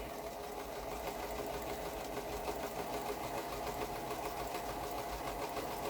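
A sewing machine stitches quilting fabric along improv curves, a steady, faint mechanical whir with fine rapid ticking that runs unbroken throughout, heard alone.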